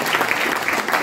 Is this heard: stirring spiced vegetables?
no